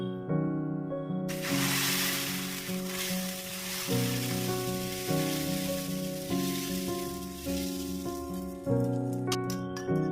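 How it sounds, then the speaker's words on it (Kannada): Mung bean dosa batter spread on a hot tawa gives off a continuous hissing sizzle that starts abruptly and carries on under steady background music. "ಈಗ ತವಾ ಬಿಸಿ ಆದ್ಮೇಲೆ ಹಾಕೊಳ್ಳೋಣ"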